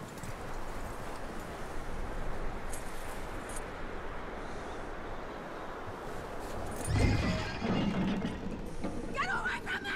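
A horse in Red Dead Redemption 2 gives a neigh midway through, with hoof clops and outdoor game ambience under people talking.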